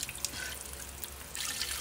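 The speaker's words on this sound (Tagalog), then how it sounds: "Lagyan natin ng tubig." Tap water runs steadily into a pot holding washed pork knuckle (pata) that is about to be boiled, a continuous splashing hiss that grows slightly fuller near the end, with no voices.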